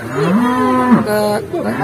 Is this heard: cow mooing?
yes